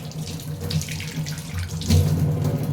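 Tap water runs steadily while brass pooja items are washed underneath it, splashing continuously at close range, with no voices.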